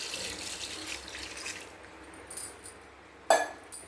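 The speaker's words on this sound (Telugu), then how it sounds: "సరిపడా వాటర్ పోసుకొని" Water pours into a pot of goat head meat curry in a home kitchen, a brief rushing splash that fades, followed by a few light metallic clinks.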